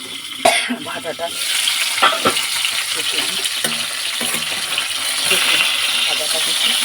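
Katla fish fries in hot oil, giving a loud, close sizzle and spatter that opens with a sharp clatter and runs on steadily while a voice briefly speaks over it.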